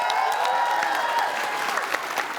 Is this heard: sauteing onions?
no